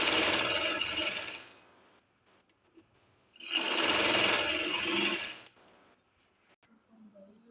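A sewing machine stitches a shirt placket in two sustained, steady runs of rapid mechanical whirring, each a couple of seconds long, separated by a quiet pause with faint handling clicks.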